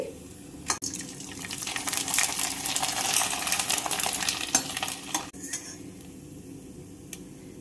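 Rice sandige fryums crackle and sizzle in hot oil in a continuous, close, loud hiss, with occasional scrapes and taps of a utensil against the pan.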